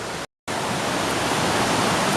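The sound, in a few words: Triberg Waterfalls, Black Forest, Germany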